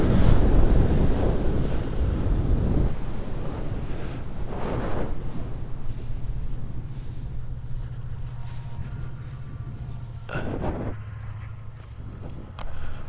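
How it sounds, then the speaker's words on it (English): Wind roars steadily over the microphone during a paramotor flight with a pod harness, a broad, buffeting rush that is loudest at the start and eases slightly, with a faint low engine hum running beneath it. "Nice wind though, look at that."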